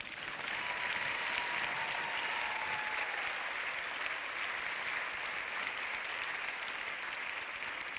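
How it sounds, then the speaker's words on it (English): Sustained audience applause at a European film award ceremony as the director of Intercepted is welcomed, a dense steady roar of clapping filling the whole stretch without speech. "A big round of applause, everyone"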